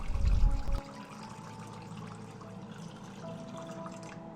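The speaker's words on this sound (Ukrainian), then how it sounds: "Заливаю водою кімнатної температури та ставлю на вогонь." Room-temperature water pours steadily into a cooking pot with a soft trickling rush, close and moderately quiet, after a brief louder thump at the start.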